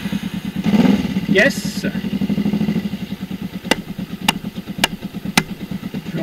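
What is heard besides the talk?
motorcycle engine starting and idling after new battery install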